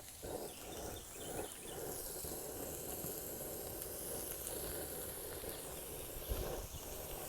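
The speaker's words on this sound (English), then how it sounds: "You hear that sizzle?" Cooking spray sizzles in a fast-heating pan on an off-grid stove, giving a steady, close hiss that runs the whole time with small bursts of crackle.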